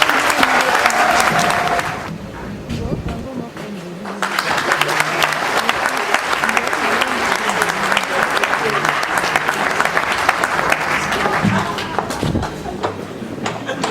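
Audience at a formal evening eloquence event applauds for a choir trophy presentation, with sustained loud clapping that briefly dips, then resumes strongly while a voice speaks over it.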